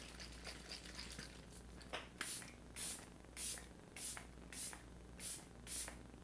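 Several short hissing bursts of cosmetic setting spray, roughly evenly spaced, over a quiet low hum with no talking.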